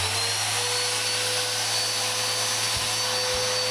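Soarfly pressure washer running with its motor and pump humming steadily and loudly, a constant whining drone with a couple of faint low knocks near the end and no talk.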